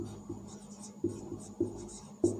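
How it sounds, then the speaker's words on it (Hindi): Pen strokes drawing the lines of a geometry diagram during a class 10 height-and-distance maths lesson, heard as soft close scratching with a few sharper taps spaced about half a second apart. "पहले तो थोड़ी सी चित्र की लाइन लिख देता हूँ मैं"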